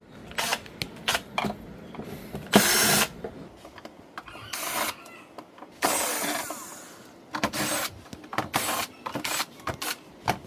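A power screwdriver backs screws out of the rear cover of an ACE 32-inch flatscreen TV with a cracked LCD, giving several short whirring bursts separated by pauses and small clicks and handling noises.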